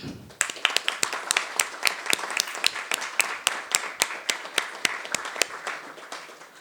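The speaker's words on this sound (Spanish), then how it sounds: "le pido un aplauso para ella" Sparse applause for a lecturer at a law talk on retroactive child support: a few distinct, fairly close hand claps in a steady rhythm, continuing for several seconds before thinning out.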